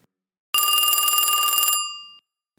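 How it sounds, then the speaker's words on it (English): An old telephone bell rings once, a rapid electric trill lasting just over a second before fading out, loud and close against silence. "the phones ringing"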